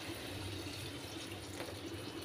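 Hot water is poured into a brinjal curry, a faint, continuous watery rush that stays even and quiet for the whole couple of seconds without any voices.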